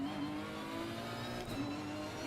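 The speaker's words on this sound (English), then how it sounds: "I don't like the engine sound" Race car engine in Assetto Corsa Competizione holding a steady, loud drone with layered harmonics, rising slightly in pitch, alone with no talk.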